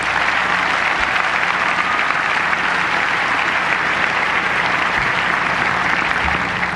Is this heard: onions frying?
no